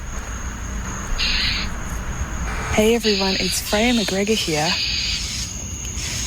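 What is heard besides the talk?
angry northern mockingbird calling at a cat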